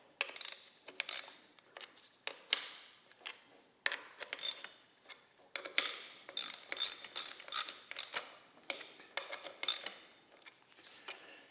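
A ratchet snugs down bolts on a Model T Ford transmission. It gives loud, close bursts of rapid metallic clicking, repeated in short strokes with brief pauses between them.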